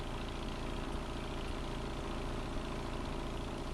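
A gasoline engine powers the pump and auger on a street repair rig, running with a steady, loud, continuous idling drone and no pauses.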